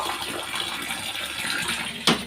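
A glass of water is poured into a pot of vegetables cooking for a watery curry, a steady close rushing pour that ends in a brief splash.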